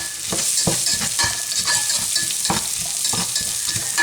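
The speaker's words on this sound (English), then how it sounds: "I've got 1 onion, peeled, sliced and diced here, and I'm just going to start to stir this now" Diced onion stirred and fried in a pan, a steady broadband sizzle with regular scraping strokes of the stirring utensil roughly every half second, close and fairly loud, with no voices.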